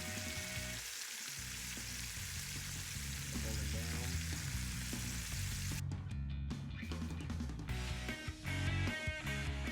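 Pork chunks frying in a pan for chilorio, a steady crackling sizzle heard up close, with intermittent stirring and scraping clatter partway through.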